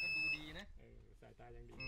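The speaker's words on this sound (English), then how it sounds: "He's rigged up a solar panel to charge his beeping battery." A high electronic beep from a battery charging off a solar panel sounds at the start, then fades out as a voice begins talking over a low background hum.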